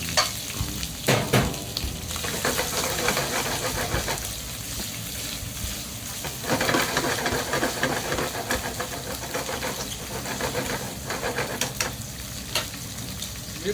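Shrimp sautéing in a pan over a high flame for linguine, a loud, close, continuous sizzle and crackle with swells of spitting and the scrape and clatter of stirring.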